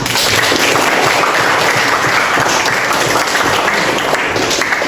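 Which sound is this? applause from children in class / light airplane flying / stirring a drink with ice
applause from children in class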